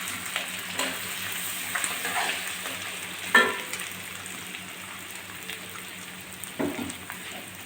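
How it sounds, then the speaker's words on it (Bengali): Onions sizzling in hot oil in a pan for a Katla fish dopiyaji, a steady soft frying hiss with occasional louder crackles and stirring clinks, no talking. "তেলের ভিতর পেঁয়াজটা দিয়ে দিচ্ছি"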